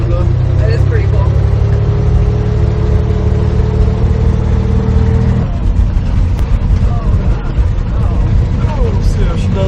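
A 1960 GMC truck with a 305 V6 engine drives on the road. The engine roars loudly and steadily up close throughout, with a shift in its note about halfway through.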